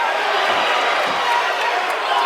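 A packed crowd at a corporate charity boxing fight in Perth cheers wildly, a loud dense continuous roar of shouting voices close around the ring.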